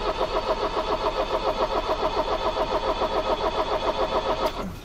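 A car engine cranking steadily with a rhythmic, pulsing starter whine, loud and close, on a car with a suspected head gasket fault letting coolant into the cylinders. It catches at the very end.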